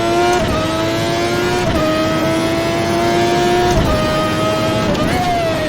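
Engine of a 1991 McLaren F1 car at high, steady revs, with the pitch dropping sharply at each downshift as the driver rides the throttle. The onboard drone is loud and close throughout.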